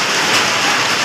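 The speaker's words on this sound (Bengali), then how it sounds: "এদিকে ঝমঝমিয়ে বৃষ্টি চলছে" Heavy rain pours down steadily on a Sunday afternoon, a dense, loud, even wash of drops filling the whole moment with no voices over it.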